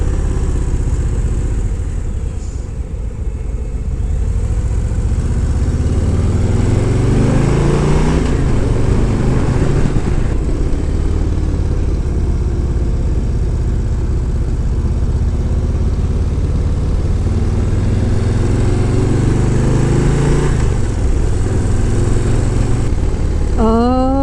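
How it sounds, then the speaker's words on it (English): Porsche sports cars approach from behind a Harley-Davidson motorcycle on a Swiss Alpine road, their engine notes rising over the bike's steady close rumble and heavy wind noise before a brief whine at the end. "Oh no, we got some Porsches behind us."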